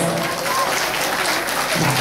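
Dense audience applause during a Navratri festival gathering at Shri Ambabai temple in Hupari, a loud, steady wash of many hands clapping together from start to finish.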